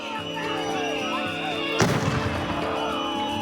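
Tear gas launchers and stun grenades fired at a street protest in Minneapolis: one loud, sharp bang bursts out partway through, over continuous crowd noise and voices.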